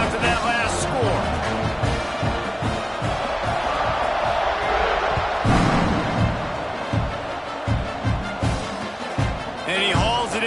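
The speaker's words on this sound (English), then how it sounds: "this crowd is buzzing after that last score" A stadium crowd buzzes steadily in the NCAA '26 football video game, a dense roar of cheering and whoops running under play-by-play commentary, with thumps and bursts rising and falling throughout.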